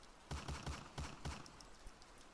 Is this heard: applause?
no